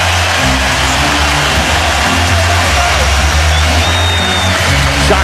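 An arena crowd at game 1 of the 2008 NBA Finals between the Boston Celtics and Los Angeles Lakers roars on its feet late in the third quarter, a loud, unbroken wash of cheering noise.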